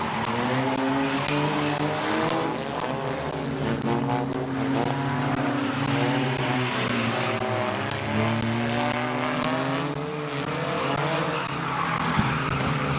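Race cars roaring around Midvale Speedway on the final lap, engines droning loud and continuous with shifting pitch as the pack passes close by.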